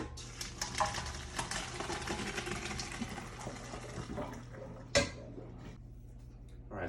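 Cooked macaroni noodles are poured off into a strainer, with running water, rattling of a metal pot and a sharp clank midway, fairly quiet and close, fading to near silence at the end.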